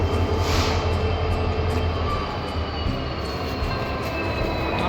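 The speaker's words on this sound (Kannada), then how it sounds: "ಅದೇ ಟ್ರೈನ್ ಬರಾತವು ಆ ಕಡೆ ಈ ಕಡೆ." Train running past at an Indian railway station on a Vijayapura to Tirupati route, a steady loud rumble of wheels and carriages filling the scene throughout, with no voices over it.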